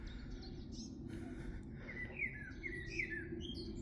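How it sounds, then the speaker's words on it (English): Blackbird song carries across a river setting, a few warbling whistled phrases with short chirps, heard at a middle distance over a constant low background hum, with no talking. "Oh, I love the song of a blackbird."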